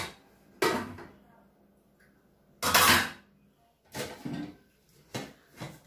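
Stainless steel cooking pots with glass lids handled in a home kitchen: several loud metallic clanks and knocks in separate bursts, close up, with quiet pauses between.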